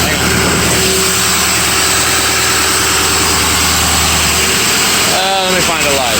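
A Ford 6.4 Powerstroke diesel runs in a shop with its VGT closed and the RPM raised, giving a loud, steady, close engine drone throughout, with someone speaking briefly near the end.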